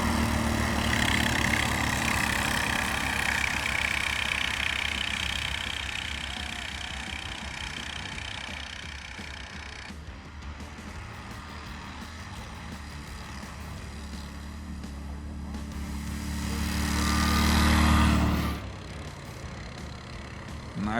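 Taros and Druak motorized towing sleds race each other. Their engines drone steadily and fairly loudly, ease off in the middle, then swell as one passes close and fades away.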